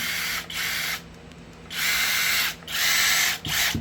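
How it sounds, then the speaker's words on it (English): A Flex 24V cordless impact driver whirs in several short, high-pitched bursts separated by brief pauses, close and fairly loud. "Now, everyone see the new Impact Driver."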